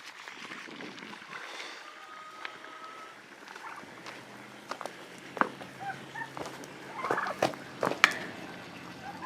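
Turkeys gobble and call in falling snow on a homestead. The scattered calls sit over a steady outdoor background and grow more frequent toward the end.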